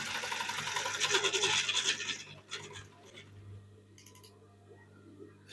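A Brother LZ2-854-3 sewing machine sewing a small zigzag stitch, giving about two seconds of a fast, buzzing, rattling run before it drops to faint ticks and scrapes.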